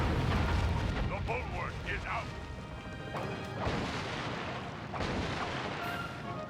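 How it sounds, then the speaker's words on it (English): Ship cannons in the Sly 3 video game firing at enemy vessels, heavy booming blasts and crashing impacts repeating over several seconds, with a person talking over them. "Looks like you can preemptively fire the cannons at the enemy ships."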